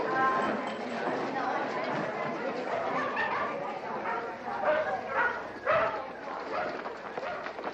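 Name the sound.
dogs barking at a dog show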